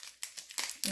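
Packing paper crinkles close by in a few short, rustling bursts, fairly quiet.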